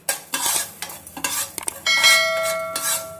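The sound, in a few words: fenugreek and mustard seeds frying in pan for mango pickle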